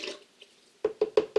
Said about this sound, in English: Then about a quarter cup of water.